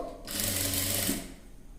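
A sewing machine fitted with a single presser foot runs one short, close burst of about a second while stitching piping onto a blouse neck.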